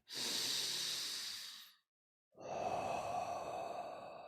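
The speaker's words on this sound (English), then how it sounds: "Stretch, breath in the belly." Deep belly breathing during a yoga-style stretch, a long airy inhale followed by a pause and then a slow, breathy exhale, close and clear.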